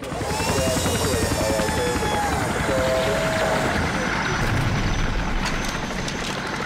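Helicopter rotor noise from the PS2 war game Shellshock: Nam '67, a steady loud thrum throughout with a voice talking over it.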